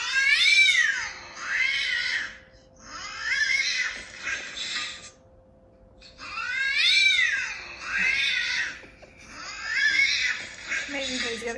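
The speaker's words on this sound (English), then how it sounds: "if your cat comes to this sound on Instagram, then they would protect you. Let's try on Tony." A cat sound plays from an Instagram video on a phone, a series of loud, whiny yowling meows in repeated bursts separated by short pauses.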